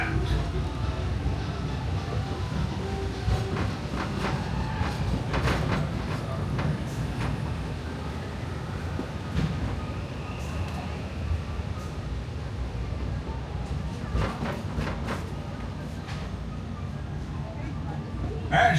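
Magic Kingdom railroad steam train running along a straightaway near Tomorrowland, a steady low rumble and rattle of the cars rolling continuously with faint ambient clatter and occasional sharper clicks.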